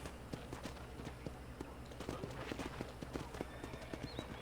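Horse hooves clip-clop at a steady walking pace in Red Dead Redemption, surrounded by background game noise and a faint voice.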